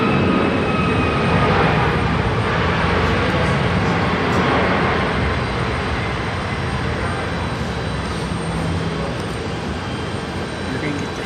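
A heavy airliner taking off on runway 34 right at Seattle-Tacoma International Airport, a loud, broad jet roar that holds steady and slowly fades, with radio voices speaking over it.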